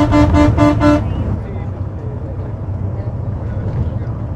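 A long-distance bus pushing through traffic gives several rapid horn honks in a row, then its engine rumbles on steadily with road noise beneath.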